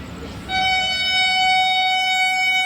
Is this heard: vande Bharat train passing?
yes